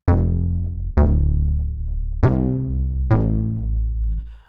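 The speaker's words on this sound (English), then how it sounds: "I did some editing to the some of the parameters in Glaze 2 to make bass head sound like this." Deep synth bass notes from the Glaze 2 software instrument, four separate plucked hits each retriggering and sustaining with a full, buzzy low tone, loud and alone.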